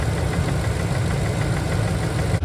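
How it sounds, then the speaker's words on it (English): A 2017 Ford F-250 Super Duty with a 6.2 liter flex fuel V8 idles steadily, a loud, close, even low rumble with no voices. "This engine's sounding great."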